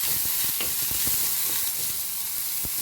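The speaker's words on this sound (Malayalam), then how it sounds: "അതിലേക്ക് കാഷ്യൂവും നമ്മൾ ഓൾറെഡി ബോയിൽ ചെയ്ത് വെച്ചിരിക്കുന്ന ക്യാരറ്റും ബ്രോക്കോളിയും കൂടെ ഞാൻ ഇട്ട് കൊടുത്തിട്ട് നല്ലപോലെ ഒന്ന് ഇളക്കുക." Cashew, boiled carrot and broccoli stirred in a hot pan give a steady close sizzling hiss, broken by soft scraping and tapping of the spatula, with no talk.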